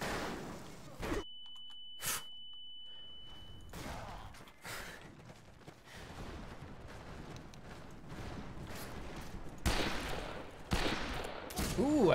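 Gunfire in the Western shooter game Fistful of Frags: scattered sharp shots and bursts, some loud and close, others muffled, over a dense game background, with brief vocal sounds at times.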